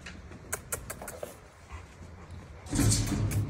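Short, thin whimpers and yips come from a dog in Tehran in the first seconds. After a quiet gap, a loud rush of broadband noise takes over toward the end.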